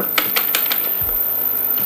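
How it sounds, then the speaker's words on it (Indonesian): Quick clicking keystrokes on a computer keyboard while working in Windows 10, several crisp taps in a short burst, close and fairly loud over a steady background hiss. "Tekan titik pada keyboard, garis miring"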